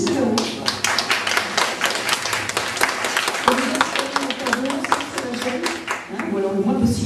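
An audience in a cinema at an art exhibition prize ceremony in Aulnay-sous-Bois claps for a prizewinner, giving dense, steady applause from many hands throughout, fairly close, with voices talking over it.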